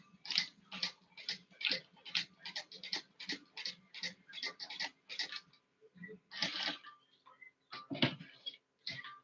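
Sewing machine top stitching down the folded edge of a fabric pouch, a quick steady run of close, rhythmic needle ticks that pauses, then resumes in shorter bursts.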